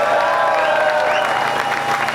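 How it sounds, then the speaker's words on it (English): A crowd at a live tour show claps and cheers in a dense, continuous wash of applause, with tones ringing underneath. "we're going to give them the biggest round of applause in the world"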